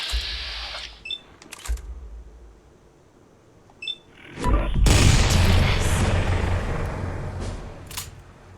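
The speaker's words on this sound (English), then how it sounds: "the shotgun I am using is from a mod" Shotgun blasts from a modded weapon in a video game: a few sharp shots early on, then a big booming blast that rumbles and fades over several seconds, near and loud.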